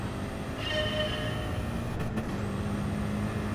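An Audi R8 in the racing game Gran Turismo Sport drones steadily throughout, a continuous rough engine tone with faint higher whines layered over it.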